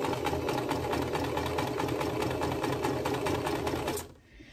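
A sewing machine stitches quilt block pieces with a steady, rapid mechanical whirr close by, running continuously before stopping abruptly near the end.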